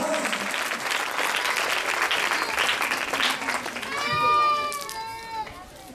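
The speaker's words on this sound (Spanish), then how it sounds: "Pero que se oiga esos aplausos." A crowd applauds steadily for several seconds at a church preaching event in Zacualpa, then a voice calls out with a wavering, bleat-like tone as the clapping continues.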